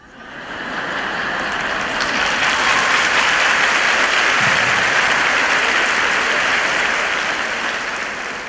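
An audience at a spoken talk breaks into applause, a dense, sustained wash of clapping that swells quickly and holds steady for several seconds before tapering slightly.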